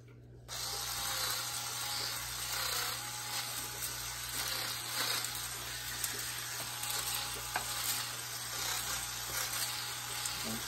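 A modified electric cutter with its blade front ground down runs in a test cut, giving a steady, harsh buzzing hiss that starts abruptly and holds at an even level close by.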